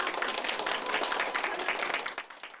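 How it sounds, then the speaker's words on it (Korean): Warm clapping breaks out across a hospital room decorated for a party, many hands applauding steadily at close range before tapering off at the end. "박수가 쏟아집니다."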